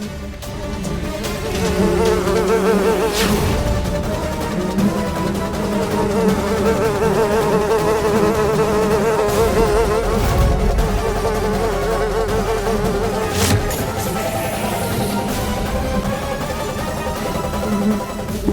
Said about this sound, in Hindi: शंकर, इन मधुमक्खियों को हम बाहर नहीं जाने दे सकते।